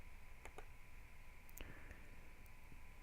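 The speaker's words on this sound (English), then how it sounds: "The only sounds in this place are the loud ticking of the clock above the door" Faint, regular ticking of a wall clock above a classroom door in the visual novel Katawa Shoujo, a few soft clicks spaced across a quiet, steady hum with no one speaking.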